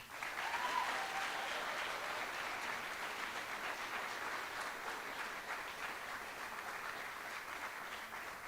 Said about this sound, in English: please give a round of applause to Nancy Achnuch